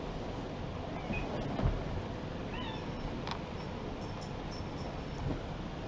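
A cat meows a few brief times in a quiet room with steady background hiss, the calls soft and fairly close.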